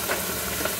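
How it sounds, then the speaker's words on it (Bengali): Spice masala sizzles steadily in an oil-coated pan, a continuous close crackling hiss with no voices over it. "আমার মশলাটা ভাজা ভাজা হয়ে গেছে"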